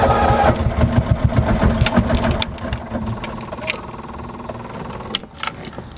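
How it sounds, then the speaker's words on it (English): Lawn mower engine of an HM-Vehicles Freeway three-wheeler, a steady loud rattling drone with jangling, clattering mechanical noise close by, while someone talks over it. "The engine's behind me making all kinds of racket."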